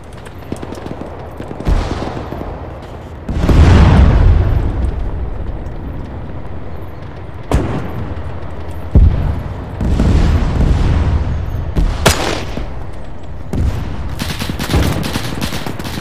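Tank cannon fire in a cooperative World War II shooter, several heavy booming shots with rolling echoes spread across the stretch amid scattered small-arms crackle and battlefield rumble.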